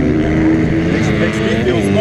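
A mini GP race motorcycle screams down the front straightaway of a track, engine loud and close with a steady high-pitched drone, while a commentator talks over it.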